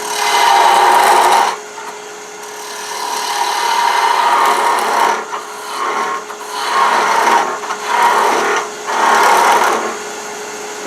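A wood lathe tapers a miniature wooden cone, loud rasping bursts of the tool cutting against the spinning wood, with several separate passes and quieter motor hum between them.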